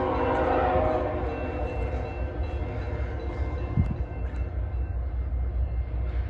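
Freight train rumbling steadily close by at milepost 27 on the CP Cascade subdivision, a loud continuous roar with a faint horn tone near the start.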